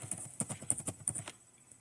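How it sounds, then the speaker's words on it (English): A computer keyboard tapped to enter a drug name, a short quick run of about ten light, close keystrokes in an uneven rhythm before stopping, quiet and alone. "I'm going to call that drug Coumadin. I'm going to type it in."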